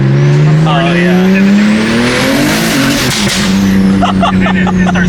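A single-turbo BMW M3 CS accelerates hard in second gear, its loud engine note climbing steadily in pitch, with turbo whine and a brief shift near the end, up close throughout.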